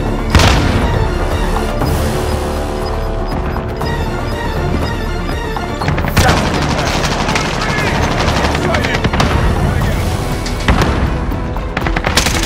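A frag grenade blast and heavy automatic gunfire in Call of Duty: Modern Warfare, a loud, dense battle mix of rapid shots and booming explosions with game voice callouts in between.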